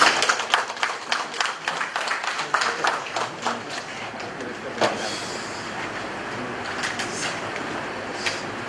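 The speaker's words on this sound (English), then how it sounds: "A round of applause." Applause from an audience at a meeting of Ghana Police Service leaders, a burst of dense clapping that is strongest at first and then thins into scattered claps over a noisy hall.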